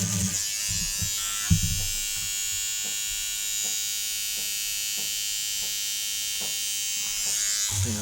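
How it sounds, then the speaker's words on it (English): A mechanical toothbrush buzzes loudly and steadily while scrubbing a water-damaged PlayStation 4 circuit board, with a constant high electric whine and short rhythmic scraping bursts as the bristles move over the board. "I'm using the mechanical toothbrush for speed"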